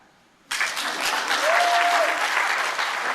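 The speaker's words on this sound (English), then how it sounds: "So you can clap for that." A conference audience bursts into applause after a moment of quiet, a dense, even roar of many hands clapping that holds steady to the end.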